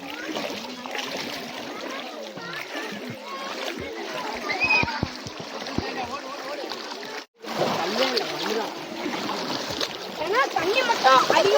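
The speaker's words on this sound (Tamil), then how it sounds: "நம்ம தண்ணிக்குள்ள நடந்து போயிட்டு இருக்கோம்" Feet splash and swish through shallow water at a new lake in Kallakurichi, with rhythmic wading sounds close by and people chatting and calling out over the splashing.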